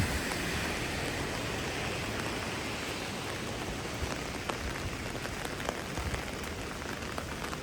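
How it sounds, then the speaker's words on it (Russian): Steady rain falls in the mountains near Sochi in January, a dense, even hiss of drops on surfaces that continues throughout with no talk. "а так, да, дождь"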